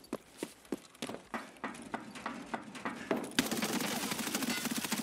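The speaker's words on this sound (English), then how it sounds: "Dude shooting at me." Gunfire in the shooter game Escape From Tarkov: a rapid series of sharp shots at a steady rhythm, then a denser, louder stretch of continuous fire and noise, with no talking.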